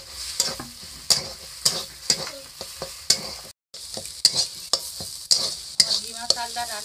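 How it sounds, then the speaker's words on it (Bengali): Gima greens fry in a wok as mustard oil is sprinkled over them and a utensil stirs them with quick, rhythmic scraping strokes over a constant sizzle, close and fairly loud. "এবার কড়াইতে একটু সরষের তেল উপর থেকে আমি ছড়িয়ে দিচ্ছি।"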